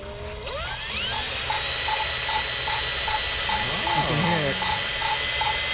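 Valve seat being lapped with lapping compound at medium RPM, a steady whirring drone with a regular ticking pulse, loud and close, while someone talks over it.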